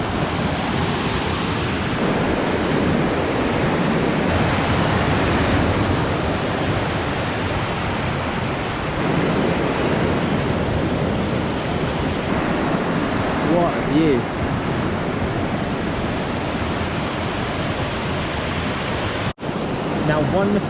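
Waterfall on the trail to Comet Falls at Mount Rainier, a loud, dense, steady roar of falling water close by with no break, ending in a brief cut.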